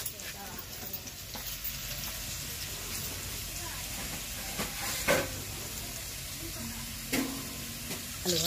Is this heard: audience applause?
no